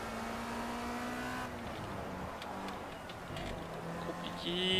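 Race car engine in the racing game Project CARS, revving up after a chicane with a steady tone that rises near the end as it accelerates in second gear, heard faintly and alone.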